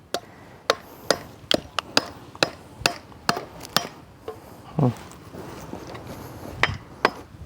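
Sharp, regular hammer blows ring out one after another, about a dozen strikes with brief pauses, close by, with faint background murmur.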